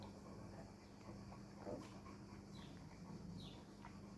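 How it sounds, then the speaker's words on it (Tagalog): A dog makes faint whimpering, yelping sounds at a distance, heard in short bursts against quiet background noise. "Ang ingay ng aso."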